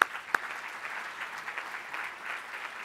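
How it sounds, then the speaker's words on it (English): An audience at an awards ceremony applauds, a continuous, fairly distant patter of many clapping hands that holds steady without talk. "Please give them a round of applause."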